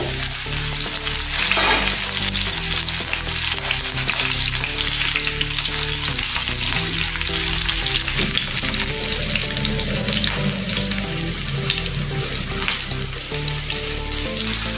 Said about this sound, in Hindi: इसको 2 सेकंड तेल में फ्राई होने देंगे।